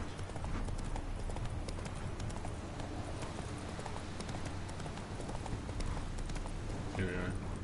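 Horse hooves clip-clop steadily and close in the game Witcher 3, a continuous trotting rhythm over a dense background of game ambience, with no clear voice over it.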